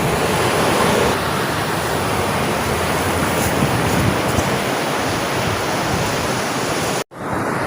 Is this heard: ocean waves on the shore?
yes